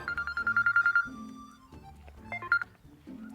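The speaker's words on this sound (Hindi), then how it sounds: "अब ये किसका फोन आ गया?" A mobile phone ringtone plays close and clear, a rapid run of pulsed beeps followed by a short electronic melody, with faint voices underneath.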